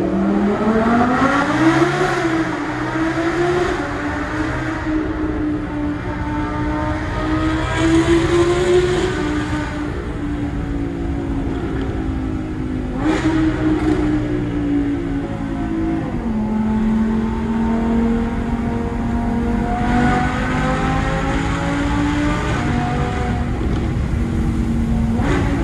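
A 670 hp Audi R8 V10 engine revs and accelerates through gear changes in a tunnel, pitch climbing and dropping repeatedly, loud and reverberant.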